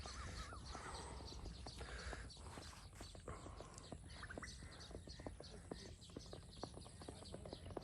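A mare walks with clip-clopping hooves, the hoofbeats coming as sharp, irregular knocks at moderate distance while crows and other birds call in the background.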